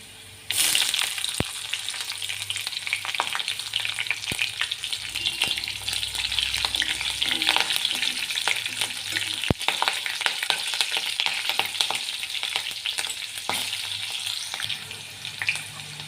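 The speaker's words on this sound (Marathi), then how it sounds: "लसूण थोडा परतून झालेला आहे त्यात हिरवी मिरची टाकून देऊया" Green chillies dropped onto garlic already frying in a pan for a chivai leaf bhaji, giving a loud, continuous crackling sizzle with occasional stirring clicks and no voices.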